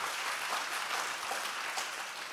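Conference audience applauding, a dense steady wash of clapping from many hands, fairly close and even throughout.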